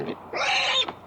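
A short, nasal pig oink rises and falls in a single burst of about half a second, clear and fairly close, with no talk over it.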